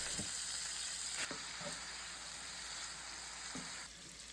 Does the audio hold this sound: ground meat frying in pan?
yes